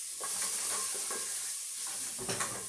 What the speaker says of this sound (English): So our onions are ready, and then add in our tomatoes.